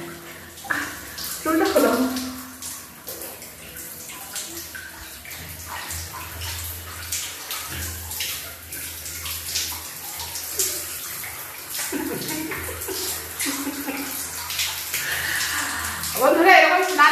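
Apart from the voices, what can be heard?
two people bathing together, splashing water in a bathroom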